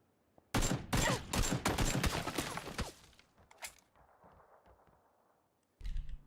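Rapid bursts of automatic gunfire from the player's weapon in PUBG crack loudly over about two seconds, followed by a lone shot, a quieter stretch and a final short burst.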